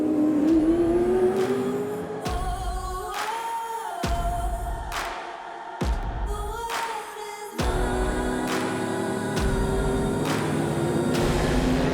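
Classic race cars from the Tour Auto 2023 on the Paul Ricard circuit, engines revving hard through gear changes with sharp cuts between shifts, several loud close passes one after another.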